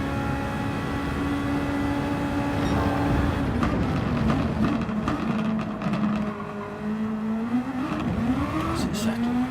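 A Super Formula race car in a racing video game accelerates at the Red Bull Ring toward a turn, its engine note climbing through gears and dipping on shifts, with a commentator talking over the steady motor drone.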